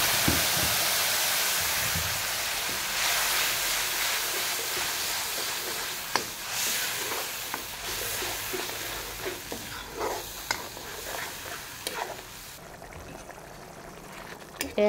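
A spice paste of ginger and garlic fries and bubbles in a pan for a fish curry, a loud sizzling hiss that eases off into softer bubbling and stirring clatter, with a voice talking quietly over it.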